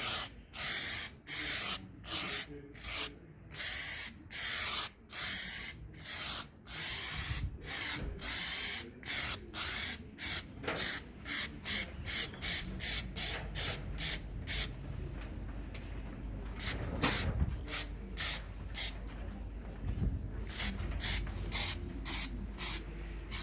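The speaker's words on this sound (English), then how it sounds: "I'm trying to watch where I'm spraying and not the camera." Close, crisp bursts of aerosol spray paint hiss in a quick regular rhythm across the smashed bumper of a Land Rover Discovery 2 Td5, slowing into longer and more spaced sprays toward the end.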